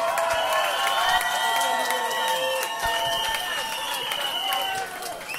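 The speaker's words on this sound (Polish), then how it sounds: "Wielkie brawa dla killera!" Club crowd at a birthday party cheering and applauding a DJ, loud clapping and shouts blended beneath bright, sustained music tones, with voices mixed in.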